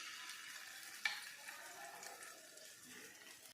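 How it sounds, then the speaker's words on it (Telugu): Onion paste drops into the oil left over from frying potatoes and sets off a quiet, steady sizzle, with one sharp splash near the start and faint scraping and stirring in a calm kitchen, with no voices. "మనము ఆలుగడ్డలు వేయించుకున్న తర్వాత ఆయిల్ మిగిలింది కదండి, దానిలోనికి నేను ఈ ఉల్లిపాయ పేస్ట్ని వేస్తున్నాను."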